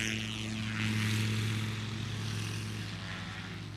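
Propeller airplane flying aerobatics at an airshow, its engine drone steady and fairly loud, swelling slightly in the middle, with no talking over it.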